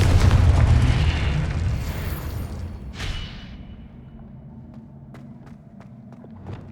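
A Confringo blasting spell goes off in the video game Hogwarts Legacy: a loud booming explosion that rumbles and fades over a few seconds, followed by a brief whoosh and light footsteps.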